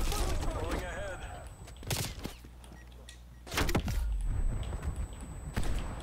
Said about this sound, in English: Shot myself with the thumper, lads.